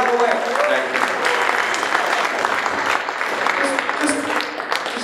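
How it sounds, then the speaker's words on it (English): Audience applause at a Shark Tank-style live event in San Francisco, steady dense clapping filling the room throughout, fairly loud and continuous with a few voices mixed in. "Ladies and gentlemen, how about a round of applause for Patrick?"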